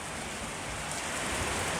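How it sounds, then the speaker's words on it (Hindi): Heavy rain pours down in Srinagar as a dense, steady hiss of falling water, loud and even throughout with no pauses and no voices. "श्रीनगर में ज़बरदस्त बारिश हो रही है।"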